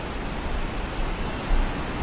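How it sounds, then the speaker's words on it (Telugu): Rain falls steadily near a zipline and swimming pool at Soochipara waterfalls, a dense, loud, even hiss that runs unbroken through the moment. "వర్షం పడుతుంది"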